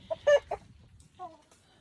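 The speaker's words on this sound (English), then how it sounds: "They are very attractive birds." Backyard chickens cluck close by: a few short, throaty bursts in quick succession, then a softer, drawn-out call after a pause.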